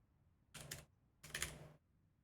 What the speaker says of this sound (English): Pardon my typing if it is too loud.